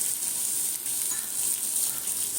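Salted paneer cubes frying lightly in a pan, a steady close sizzle with a bright hiss and faint crackle running throughout, alone with no talk.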